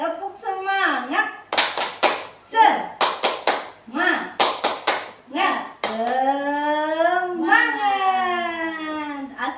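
A group claps the Indonesian 'tepuk semangat' spirit clap at a school teachers' training session: a close, rhythmic sequence of sharp hand claps with voices chanting before and after.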